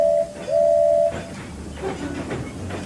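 A steady horn-like tone sounds briefly, then a train rumbles and rattles along the tracks at moderate volume with no talking.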